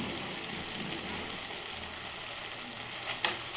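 Grated coconut sautéing in a pan while making a small-leaf spinach (siru keerai) chutney, a steady close sizzle with a brief clink near the end, no talking.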